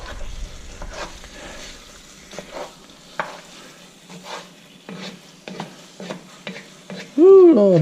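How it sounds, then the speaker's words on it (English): Deer venison meat browns in a pan over raised heat, a low quiet sizzle punctuated by irregular clattering spoon or spatula strokes against the pan, ending with a brief louder sound. "I want that meat to start browning."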